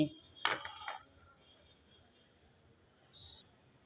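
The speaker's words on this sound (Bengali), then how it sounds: "বাটির মধ্যে আমি একটা একটা করে সব কাঁকড়ার পিসগুলো দিয়ে দিচ্ছি" Pieces of crab clatter into a large mixing bowl one after another while making crab fry, a quick cluster of clinks at the start, then near-quiet with a faint background hiss.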